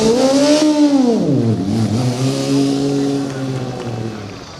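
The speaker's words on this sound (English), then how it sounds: "this, ladies and gentlemen, is what a nice combustion car sounds like." A Formula Student combustion race car circles the skid pad, its engine revving loudly with pitch sweeping down then rising and holding steady, close and continuous, with a little background voice.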